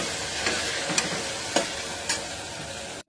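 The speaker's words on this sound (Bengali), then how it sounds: "ততক্ষণ আমি এটা নাড়তে থাকবো যতক্ষণ হচ্ছে এটার একটা কাঁচা গন্ধটা চলে না যায়" Chilli chicken spice paste fries in a pan while a spoon stirs it, producing a steady close sizzle punctuated by about four soft scraping strokes, then a brief cutoff at the end.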